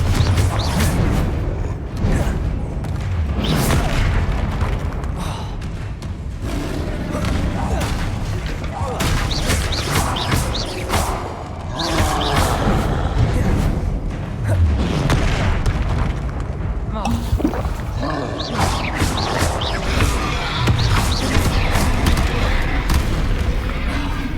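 Repeated Confringo blasting-spell explosions in a video game, a dense run of booming blasts and crackling bursts that continues loud and nearly unbroken throughout.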